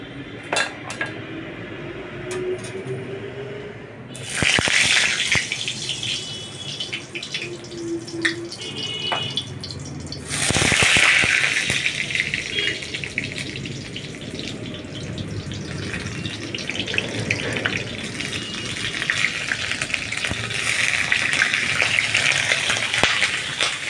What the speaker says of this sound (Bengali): পটলগুলো ধোয়া ছিল তো, জলটা পড়েছে, তাই শব্দ হচ্ছে।